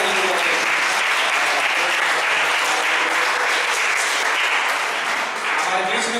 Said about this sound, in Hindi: क्यों ना आप जोरदार परमेश्वर के लिए जोरदार ताली बजाते हैं।